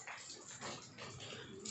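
A dog whimpers and yips in short, restless bursts, close by, over a steady rushing background noise.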